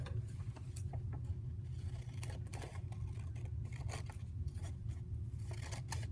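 Scissors snip through a paper design for a printed textile stencil, a close, quiet run of small irregular cuts and rustles over a low steady background hum.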